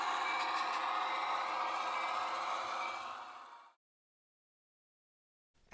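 A steady broadband hiss of air releasing from a model locomotive's brakes on a DCC-EX layout, holding loud and even for several seconds before fading out, followed by silence and a brief burst at the very end.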